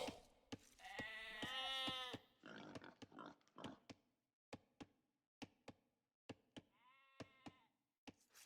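Sheep in the video game Age of Empires give two drawn-out bleats, one long and one shorter, amid a series of sharp, evenly spaced clicking knocks, fairly faint and without talk.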